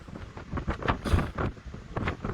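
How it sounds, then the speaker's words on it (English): Strong wind buffets the microphone outdoors, gusty irregular rumbling bursts, loud and close, with no talk. "It's very windy."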